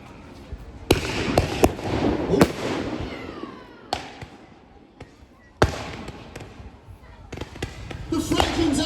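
A documentary's reconstruction of a World War II naval battle between cruisers plays irregular heavy gunfire blasts and booms. A narrator speaks between and over the shots.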